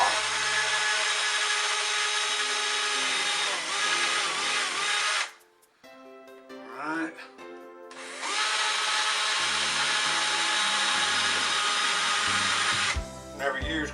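Craftsman battery-powered drill whirring loudly while backing screws out of an old light box during a surface-mount 4-foot fluorescent light install, two long steady runs broken by a pause with handling noise and some speech.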